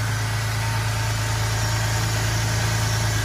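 A Ferrari's engine idles steadily up close after sitting unused for four months, a constant, even hum with a low vibrating drone and no other sounds.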